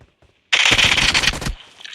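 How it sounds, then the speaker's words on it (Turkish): A burst of automatic gunfire from the mobile battle royale game PUBG Mobile, about a second of rapid, loud, close shots starting abruptly after near silence, then a short fading tail. "Bir mermi atıyor kaçıyorlar bak."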